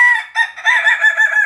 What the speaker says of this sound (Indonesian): di kejauhan kokok apa itu saudara-saudara